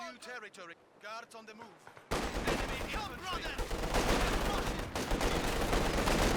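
Machine-gun fire from Guards infantry with upgraded LMGs in Company of Heroes 2, a dense, continuous rattle of shots and distant battle noise that starts abruptly after someone speaks and stays loud to the end.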